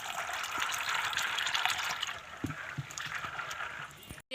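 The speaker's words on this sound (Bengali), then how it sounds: "এইভাবে 2-3 বার জল দিয়ে ভালো করে আমি পরিষ্কার করে ধুয়ে নেব।" Chana dal rinsed in water, with hissing, sloshing water and gritty swishing for a few seconds, then softer splashes and light knocks, ending in a brief gap and a final splash.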